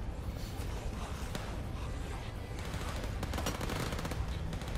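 Dense enemy gunfire in the video game Overkill's The Walking Dead, rapid overlapping automatic bursts and shots continuing without a break, fairly loud and sustained.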